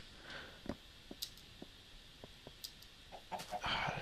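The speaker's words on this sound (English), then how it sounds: "The little chicken's gonna get stuck." Minecraft chickens cluck in short, scattered bursts at moderate distance, a few sharper calls rising near the end over a faint, steady game ambience.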